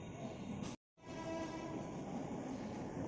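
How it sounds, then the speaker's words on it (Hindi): A Mumbai local train runs near Vasai, its steady loud rumble and rattle filling the carriage, broken once by a brief sharp dropout before the clatter resumes unchanged. "देखो लोकल ट्रेन दिखाता हूँ आप लोग को।"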